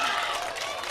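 Audience applause at a mushaira poetry recitation, with dense, continuous clapping from a crowd filling the whole brief moment, loud and close.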